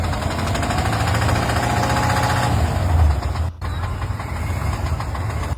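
A 3.0 Duramax diesel engine running with a failure noise, loud and close, with a harsh rapid knocking clatter over a steady drone that briefly cuts out and then resumes.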